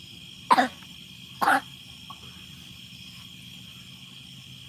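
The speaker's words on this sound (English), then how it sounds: "The coughing that she's doing" A woman coughs twice in short, sharp bursts about a second apart, fairly close, with quiet background hum and no talking.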